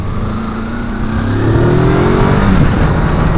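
A Kawasaki Versys X300 adventure motorcycle is ridden at a steady engine drone that climbs in pitch as it accelerates, with the rising engine note and constant wind rush staying close and loud throughout.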